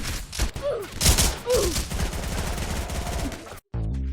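Rapid bursts of video game gunfire crackle in a dense, sustained volley, loud and close, with a few brief electronic chirps over the shooting.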